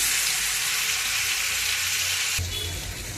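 Green chillies sizzle in hot oil in a pan for a tomato and broad bean curry, a dense close crackle that shifts briefly near the end as something is stirred or added, with no voices.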